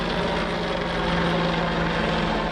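Carabinieri helicopter flying overhead during road checks, a steady loud rotor and engine drone with a constant low hum, continuous and unbroken throughout, no voices.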